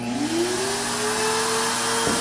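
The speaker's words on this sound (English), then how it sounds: "Right now the vacuum is running at full speed." Erica's MT-20 nail dust vacuum, a 1-horsepower unit, runs at full speed with a loud, steady motor roar and a whine that rises slightly as it spins up, with no talking.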